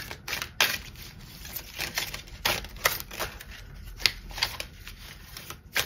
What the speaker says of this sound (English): So let's give these a shuffle.